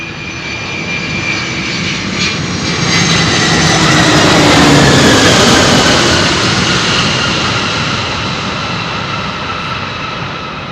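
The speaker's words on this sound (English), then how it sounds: "A 300, another very tried and tested freighter." A UPS Airbus A300 freighter jet on the runway at Louisville gives a loud, sustained engine roar with a whining tone that swells toward the middle and then eases slightly, close by and without talk.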